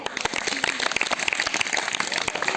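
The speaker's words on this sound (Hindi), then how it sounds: "सब लोग को उनके लिए ताली बजाते हैं" A crowd claps for the winners of a contest, dense, steady applause filling the whole moment at close range.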